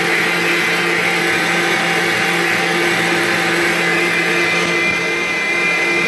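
An electric mixer whips génoise sponge batter in a tall bowl, a loud, steady high-speed whirring drone that holds without a break.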